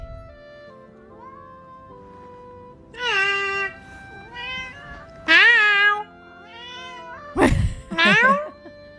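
A cat meows several times with clear, rising-and-falling harmonic calls, the loudest bursts late in the clip, over a quiet background.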